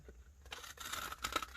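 Paper cut with scissors while making a lap book, a quiet crisp tearing snip lasting just over a second, close and faint with no talking.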